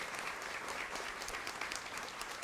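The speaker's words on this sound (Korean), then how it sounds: "우리 최태성 선생님께도 박수 다시 한번 부탁드릴게요." A lecture-show audience applauds history teacher Choi Tae-seong with steady, unbroken clapping that is faint and distant.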